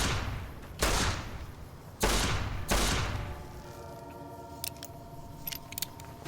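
Gunfire in the PC game Fallout: New Vegas: three loud, separate shots about a second apart, each with a quick tail. Fainter metallic clicks and rattles from the weapon follow, with no one talking.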